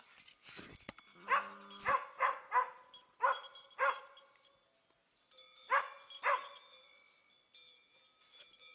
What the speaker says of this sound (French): Elle aboie mais elle n'est pas fière.